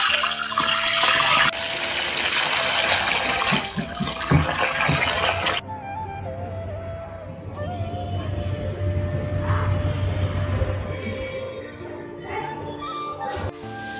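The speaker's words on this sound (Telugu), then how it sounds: "ఈ చికెన్ అందులో వేసి బాగా డీప్ ఫ్రై చేసుకున్నాం" Chicken pieces for a curry leaf chicken podi deep-fry in hot oil, giving a dense, bubbling hiss that is loud at first and then settles into a quieter, steady crackle close by.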